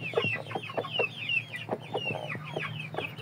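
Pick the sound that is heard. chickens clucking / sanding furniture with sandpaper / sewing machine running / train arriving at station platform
chickens clucking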